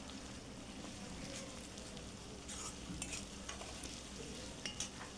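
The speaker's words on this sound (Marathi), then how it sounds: "त्याला चांगलं आता मिक्स करून घ्यायचं, म्हणजे कांद्यासोबत ते पण सॉफ्ट होऊन जाईल" Onion and ginger for pav bhaji stirred and frying in a pan, a steady close sizzle with occasional scraping clinks of the spoon, no voices over it.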